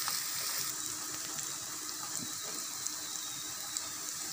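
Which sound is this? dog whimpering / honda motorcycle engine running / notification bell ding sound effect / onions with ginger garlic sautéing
onions with ginger garlic sautéing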